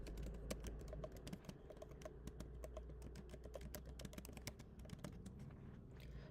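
Quiet, close typing on a computer keyboard, a steady run of rapid key taps with no talking.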